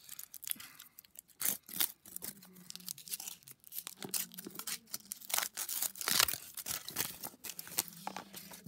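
Foil wrapper being peeled off a Kinder Surprise chocolate bunny, close up: a string of crisp, uneven crinkles and short tearing rustles that come in bursts with small gaps between them, and nobody speaking.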